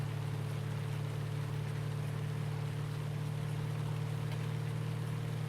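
The big engine of a Big Bud tractor in Farming Simulator 2019 drones at a low, steady pitch, a constant rumbling hum with no change in revs and no talking.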